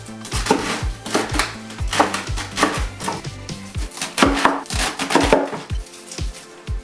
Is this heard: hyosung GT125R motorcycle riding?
no